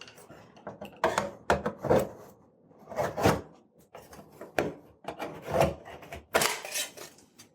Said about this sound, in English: I'll just use my screwdriver and kind of pry around the edge, and I'll pop this piece out.